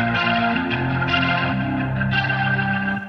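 Sustained Yamaha YC Series stage keyboard chords with a swirling, warbling rotary-speaker effect, loud and continuous with a slight reverb tail.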